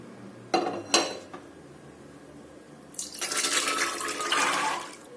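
Metal clanks against a pressure cooker twice, then a longer rush of pouring and clattering as white kidney beans are tipped into it, close and fairly loud.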